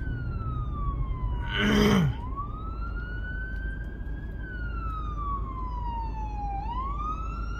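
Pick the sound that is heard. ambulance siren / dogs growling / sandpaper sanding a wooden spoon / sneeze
ambulance siren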